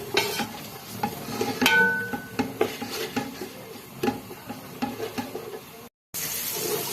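Onions frying in ghee or oil hiss and crackle steadily while a spoon stirs and clinks against the pot in irregular scrapes, close and moderately loud, with a short gap of silence near the end.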